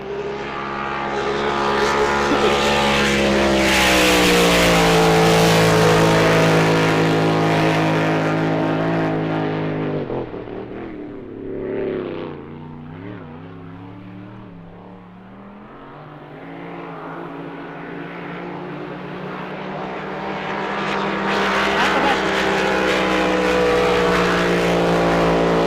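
Forced induction race boat roaring past on the water, a loud harmonic engine howl that builds, falls away as the boat passes into the distance, then swells back up strongly, with no voices.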